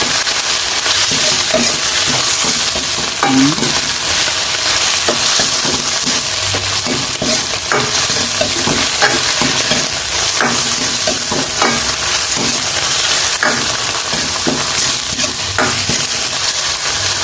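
Corned beef fries in a hot pan while being stirred, a constant loud sizzle broken by repeated scraping strokes and small crackling pops.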